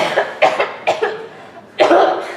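A harsh, bad cough from a person with a lingering cough, several loud chesty bursts in a row, close and alone, with a longer rough fit at the end.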